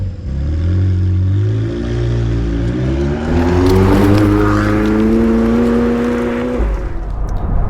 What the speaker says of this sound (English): I am driving a 2021 McLaren 720S.